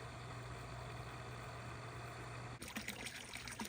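Water trickles and pours steadily into an animal's water supply at a sanctuary on a very cold night, a continuous close wash with a low hum beneath, turning more splashy and uneven toward the end.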